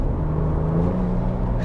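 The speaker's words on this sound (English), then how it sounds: "You can hear a bit of a turbo spool." Turbo spool from a Ford Ranger Raptor pickup's 3.0-litre twin-turbo V6, heard from inside the cabin as a steady low engine drone with a faint rising whistle layered on top.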